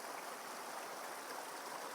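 A beautiful creek flows steadily, a dense, continuous rushing and burbling of water that holds an even level throughout with no voices.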